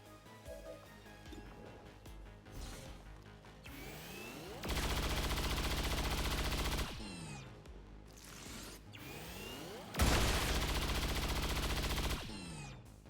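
Rapid automatic gunfire in the XCOM 2 Long War of the Chosen game rips out in two loud sustained bursts of a couple of seconds each, separated by quieter game ambience.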